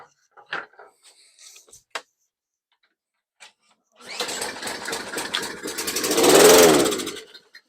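A Toro Recycler lawn mower engine sprayed with carb cleaner fires and sputters for about three seconds, a loud rough burst that swells and fades, following a few faint clicks and taps.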